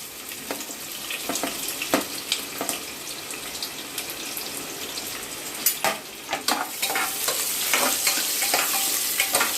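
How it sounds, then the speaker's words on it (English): Sliced onions fry in hot oil in a pan with Kashmiri chili for a spicy desi chicken curry, giving a continuous close sizzle dotted with sharp crackles and stirring clicks, with no talking. "You will fry it till it becomes complete brown."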